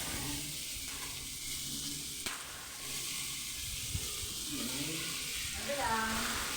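Tilapia sizzles and fries in hot oil in a pan for a sweet and sour dish, a steady hiss and crackle throughout with a few louder pops and a voice talking over it.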